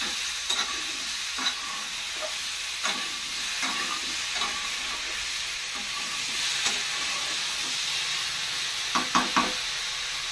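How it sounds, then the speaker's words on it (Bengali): Pipul saag frying in a pan, a steady sizzle and hiss running throughout with intermittent clicks and knocks of stirring. "এবার এটাকে ঢেকে ঢেকে ভেজে নেব।"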